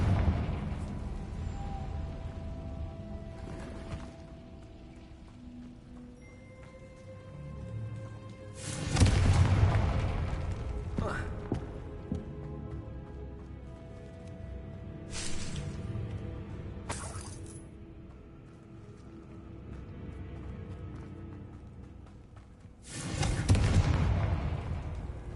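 Fire spell explosions cast in the Hogwarts Legacy video game, sounding as several loud, sharp booming blasts that are spaced apart, with crackling bursts over an ambient game background.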